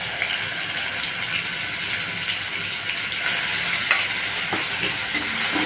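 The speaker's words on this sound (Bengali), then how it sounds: "পেঁয়াজ বাটাটা দিয়ে দেবো।" Onion paste frying in hot oil in a pan and being stirred, a steady bright sizzle with occasional scraping stir sounds, close and continuous without speech.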